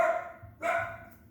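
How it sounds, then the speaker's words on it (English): A dog barks twice indoors, two short, fairly loud barks about half a second apart, with no talk over them. "she wants to bark at other things"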